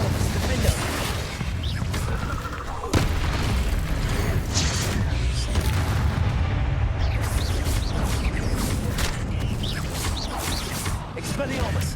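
Spell blasts from Confringo and Incendio in the Hogwarts Legacy video game, booming bursts and fiery pops layered into dense, continuous combat noise with music and effects running throughout.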